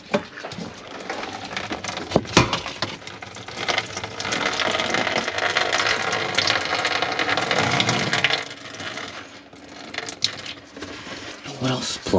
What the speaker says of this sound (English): So turn the faucet on, it's gonna drain.